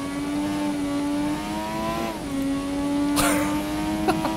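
Formula 1 car in the F1 2017 racing game at Spa-Francorchamps, flat out in fifth gear: a loud, steady high-pitched engine whine that holds, dips briefly and climbs again, with a sharp shift-like burst near the end.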